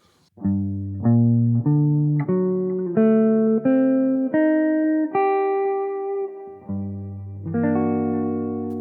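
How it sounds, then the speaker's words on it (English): A synth-like tone plays the harmonic minor mode as a rising arpeggio, one sustained note after another climbing through the dark scale before dropping back low. "It's basically the entire mode placed as an arpeggio."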